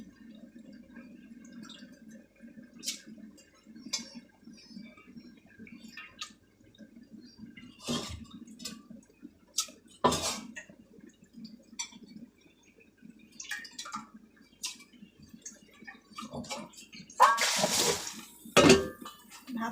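Rice is poured and swished in water in a bowl so grit settles, giving close sloshing, drips and clinks against the container, irregular and wetter toward the end, with no talk.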